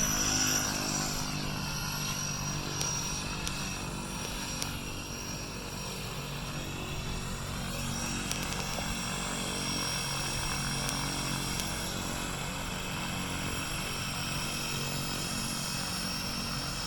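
An Air Tractor 402 crop-spraying plane's propeller engine drones steadily and loudly nearby, a constant unbroken roar with no talking.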